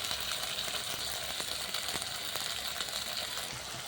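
Ginger-garlic paste sizzles and fries in a pan with chopped tomatoes, a steady close crackle with faint stirring scrapes and no voices.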